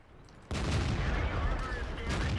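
A loud tank cannon shot in World of Tanks bursts in suddenly and sustains a heavy, rumbling roar, with a voice faintly present.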